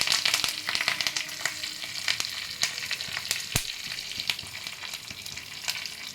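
Curry leaves hit hot oil during tempering for a breakfast batter dish, producing a bright continuous sizzle with sharp crackles and spits, fairly quiet and steady throughout.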